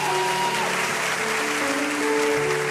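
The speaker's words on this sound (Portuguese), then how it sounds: "Por favor, aplauda ao Senhor em gratidão." A church congregation applauds in gratitude, a steady dense wash of clapping that carries through the whole stretch while a soft voice or musical tones sit faintly beneath it.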